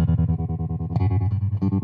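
An electric guitar runs through a Strymon Flint reverb and tremolo pedal on its Rumble preset, a sustained, distorted chord pulsing in a fast, steady tremolo throb with sixties-style reverb, loud and close.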